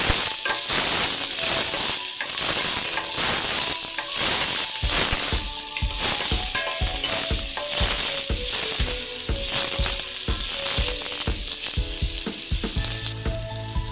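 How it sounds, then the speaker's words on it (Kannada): Chopped onions fry in a pan for crab sukka, a loud, steady sizzle with crackles and scraping spoon clicks throughout, close and continuous. "ಈಗ ಕಟ್ ಮಾಡಿ ಇಟ್ಕೊಂಡಿರುವ ಈರುಳ್ಳಿಯನ್ನು ಹಾಕ್ತಾ ಇದ್ದೇನೆ. ಇದು ಸ್ವಲ್ಪ ಸಾಫ್ಟ್ ಆಗುವವರೆಗೂ ಹುರ್ಕೊಳ್ಬೇಕು."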